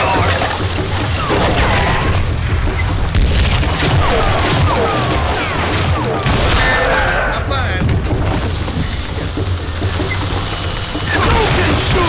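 Heavy gunfire in the Western shooter Call of Juarez Gunslinger: a continuous, loud barrage of overlapping shots and booming impacts with clattering mechanisms, dense and close throughout.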